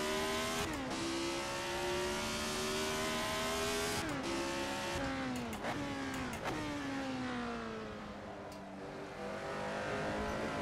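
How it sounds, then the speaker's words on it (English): A retro Formula 1 race car in Assetto Corsa at Donington Park revs hard on the throttle, its high engine whine climbing through gears with sharp dips at each shift, loud and sustained throughout. "On the throttle, bring the car out."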